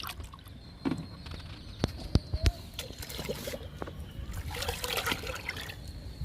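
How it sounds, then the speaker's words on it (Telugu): Fresh cow dung liquid fertilizer poured onto flower plants, a faint trickling and splashing of liquid with a few sharp knocks, quiet and close, under light background noise. "ఇప్పుడు పూల మొక్కలకి ఇచ్చేద్దామండి ఈ లిక్విడ్ని ఈరోజు అన్ని మొక్కలకి ఇస్తున్నానండి పచ్చిపేడ లిక్విడ్"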